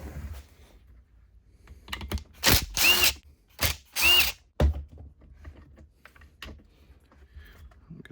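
Power driver backing out T25 Torx screws from a Craftsman string trimmer cover, a few short, sharp whirring bursts close by, separated by quiet gaps and small clicks of handling.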